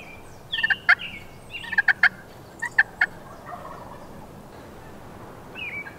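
Several wild turkey toms gobble from a Nebraska public-land hillside, a cluster of sharp, rattling calls in quick bursts over the first three seconds, moderately distant and carrying over quiet outdoor background.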